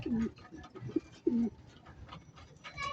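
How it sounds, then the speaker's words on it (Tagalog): Pigeons cooing in a loft, a few soft throaty coos close by over a low rustling background, with no talk. "So, ayan yung ating kalapate."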